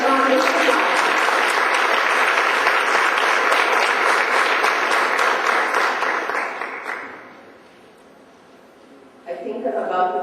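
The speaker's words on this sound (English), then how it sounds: "Please give them a round of applause." Audience giving a round of applause for people called up front, a full, even clapping that holds for about seven seconds, then dies away into near quiet before a speaker resumes talking.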